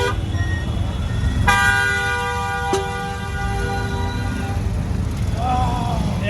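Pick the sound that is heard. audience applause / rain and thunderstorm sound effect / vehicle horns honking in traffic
vehicle horns honking in traffic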